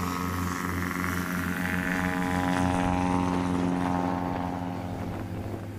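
A brand new 2023 Just Aircraft propeller airplane on its takeoff roll at a Swamp STOL practice in Jennings, Louisiana, engine droning loud and steady with a rising buzzy whine, heard from nearby.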